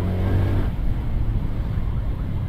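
A steady, loud low rumble of road traffic surrounds a vehicle stuck in a jam, with engine drone and passing cars blending into a continuous roar.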